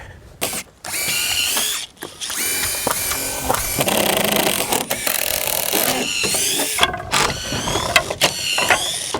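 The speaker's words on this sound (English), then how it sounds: "You're getting paid by the number of screws you take out today, Greg." A power driver with a T25 bit backs screws out of deck boards, repeated loud whirring and ratcheting bursts with short gaps between screws, close and dominant, no talking.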